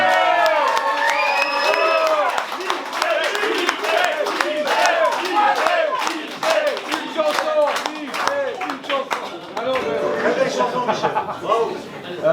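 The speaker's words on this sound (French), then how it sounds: "je vous demande d'applaudir Michel" A concert audience claps and cheers loudly for a guitarist, dense crowd applause with shouts and chatter that lasts throughout at close range.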